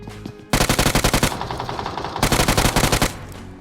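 Automatic gunfire in the mobile battle-royale game BGMI (PUBG Mobile), heard as two loud, rapid-fire bursts of shots close up, separated by a short lull and preceded by a brief quieter moment.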